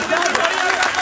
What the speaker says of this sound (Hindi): आप सब की जरा तालियां बजा के मुझे बताएं।